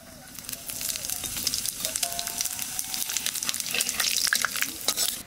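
Cumin seeds and bay leaves crackle and sizzle in hot oil, a steady close frying hiss with sharp pops and spits that builds louder toward the end, no voices.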